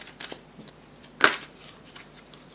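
Tarot cards are shuffled and drawn in soft, close papery riffles and flicks, with one sharper snap in the middle.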